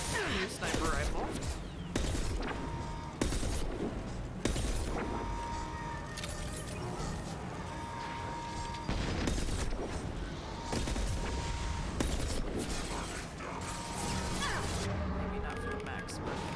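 Sniper rifle fire in the video game Mass Effect Legendary Edition: a string of sharp, loud shots and impact bursts repeating every second or so amid ongoing combat noise.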